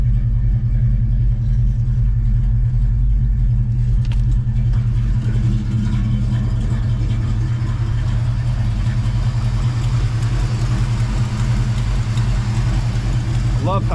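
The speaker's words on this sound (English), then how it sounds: "Love how quiet that engine compartment is." A car engine idles steadily after a cold start, a loud, continuous low hum and rumble heard from close by with no break for the whole stretch.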